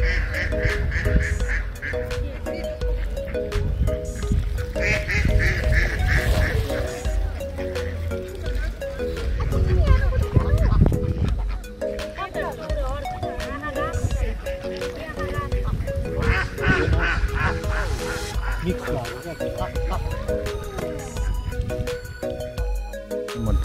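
Ducks quack and geese honk at a pond in Richmond, Tasmania, in repeated bursts of calls close by, mixed with ongoing human talk throughout.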